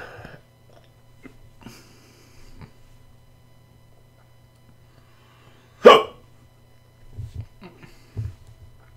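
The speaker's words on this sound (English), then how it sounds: "Got a hiccup, actually." A few sharp hiccups punctuate near-silence, one loud abrupt burst standing out in the middle and softer ones after, over a faint low hum.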